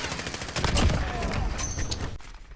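Video game gunfire crackles in quick bursts through a short stretch, with an excited voice in the background and a scoped shot ringing out near the end.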